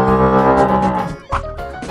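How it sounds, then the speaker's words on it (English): A cow gives a loud, close, drawn-out moo, deep and resonant, alone with no talking. "Cow."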